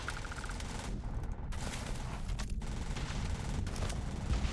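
Dense automatic gunfire rattles in a shooter video game, bursts overlapping almost continuously with brief gaps, loud and close.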